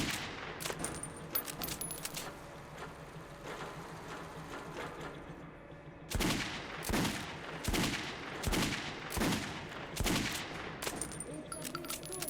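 Gunfire in the shooter game Metro 2033 Redux during a headshot challenge: a run of sharp, loud shots in quick succession, with a quieter stretch of game ambience before them and no talking.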